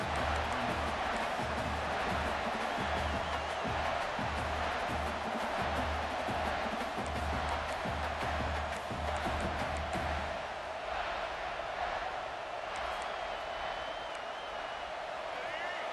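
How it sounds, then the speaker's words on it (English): A packed college football stadium crowd roars throughout a Miami versus Indiana game, a dense, loud, sustained wall of noise that eases slightly toward the end. "This crowd, full throat, splitting the eardrums"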